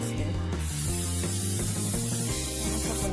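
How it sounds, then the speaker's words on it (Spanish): Canola oil cooking spray is sprayed onto a frying pan heating on the stove, giving a loud, steady hiss that runs unbroken for about three seconds. "la vamos a rociar con aceite en spray de canola"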